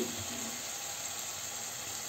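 Water poured into a frying pan holding a desi restaurant-style fried rice mixture with vegetables, giving a steady, moderately loud hiss and sizzle throughout, with no talk.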